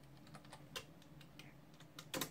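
Keys tapped on an old computer's keyboard during a factory reset, a quiet, irregular run of separate clicks with a sharper burst near the end, with no voices.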